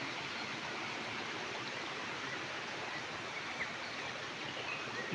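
Steady, broad rush of a waterfall in Phetchabun, Thailand, even and unbroken for the whole stretch, moderately loud with no voices.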